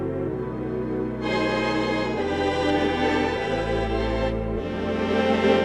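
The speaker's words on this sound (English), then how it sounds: "This is theater organ." Theater organ voice on a Yamaha Tyros 5 keyboard, full sustained chords with a rich low bass line and shifting harmony, loud and continuous with no talk.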